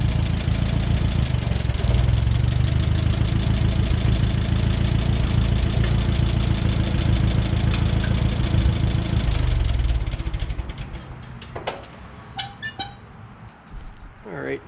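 A 1955 Ferguson 35 tractor engine runs steadily with a loud, low rumble for about ten seconds, then drops away, leaving quieter scattered knocks and clicks.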